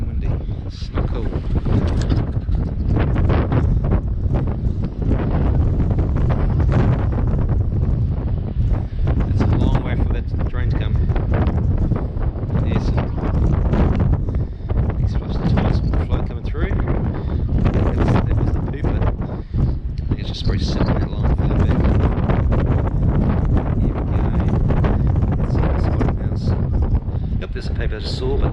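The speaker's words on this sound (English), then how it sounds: "So windy, such a nice day, it's so freaking windy" Strong wind blowing across a microphone outdoors during drain cleaning work, a constant loud rumbling buffet that persists throughout, with talk underneath.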